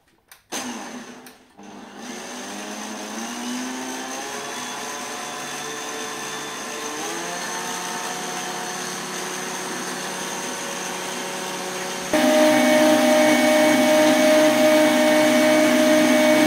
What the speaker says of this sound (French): dans un robot avec un mixeur, on va fouetter la chantilly